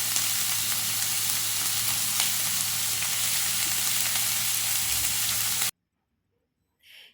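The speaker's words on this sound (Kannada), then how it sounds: "ಎಣ್ಣೆ ಸ್ವಲ್ಪ ಬಿಸಿ ಆಗ್ತಾ ಬರುವಾಗ ಈರುಳ್ಳಿಯನ್ನು ಹಾಕಿದ್ದೇನೆ" Onions fry in hot oil for a chicken samosa filling, a dense, loud, continuous sizzle with faint stirring, cutting off abruptly to near silence before a brief faint sound.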